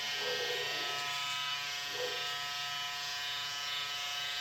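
Electric hair clippers buzz steadily and close up during a self-haircut, a continuous high whir with small shifts as they cut tiny hairs, no talking.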